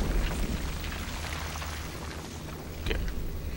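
Bombs blow up in Conker Live and Reloaded as a steady, rumbling roar with bursts of crackle, with a fresh blast landing near the end, all fairly muffled and without speech.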